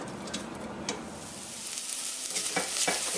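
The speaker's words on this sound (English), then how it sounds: "Give it a quick stir, and I want that to sweat down and soften up" Onions sweating in a pan on low heat for a tamarind barbecue sauce, a soft steady sizzle that grows a little louder, with a few light stirring scrapes near the end.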